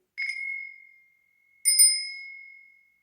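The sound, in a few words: bells ringing during a card reading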